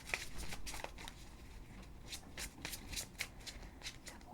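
A deck of oracle cards is shuffled by hand, giving a run of close, crisp riffling flutters and soft slaps in quick irregular bursts.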